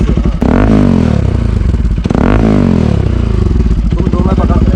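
A Bajaj Pulsar RS 200 motorcycle fitted with an aftermarket exhaust revs up twice in close, loud, rising-and-falling throttle blips, then settles into a rough idle.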